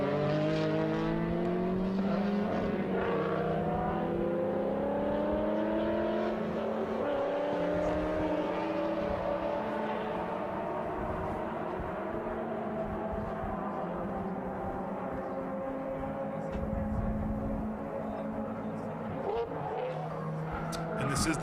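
Ford Focus RS race cars at the Circuit of the Americas during a Super Lap Battle time-attack session, engines rising and falling through gear changes with occasional tire squeal, a steady loud roar beneath people talking.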